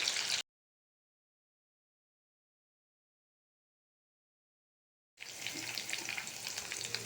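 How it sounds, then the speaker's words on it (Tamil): Chicken pieces deep-fry in hot oil for chicken fried rice, a steady hissing sizzle that cuts off abruptly into silence and then returns, close and fairly soft. "நல்லா பொரியட்டும், நல்லா வெந்து வரட்டும்"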